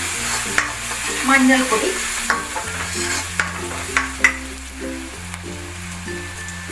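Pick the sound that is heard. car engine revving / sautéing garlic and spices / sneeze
sautéing garlic and spices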